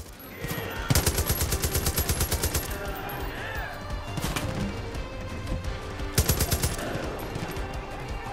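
Automatic gunfire in the Far Cry 5 jail defense mission: two loud, rapid bursts of shots, one early and one near the end, with game chatter and ambient battle noise between them.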